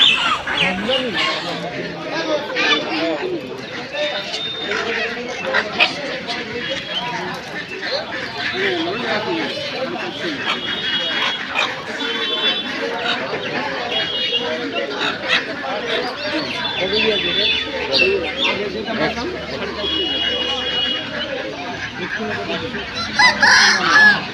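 A crowded poultry market full of chickens and geese, with steady clucking and crowing from many birds nearby and people chattering over the din.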